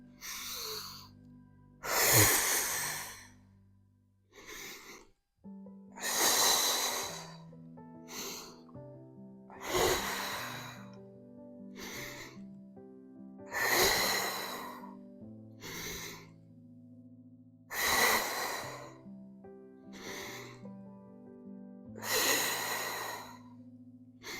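Heavy breathing during a pilates core workout: about nine long, forceful exhalations in a steady rhythm with short pauses between, close to the microphone, with no speech.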